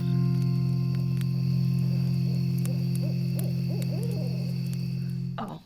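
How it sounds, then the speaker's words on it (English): An owl hoots in a steady series of soft calls over a loud, constant low hum and background hiss, with the hooting cut off abruptly near the end. "can you do the owl hooing?"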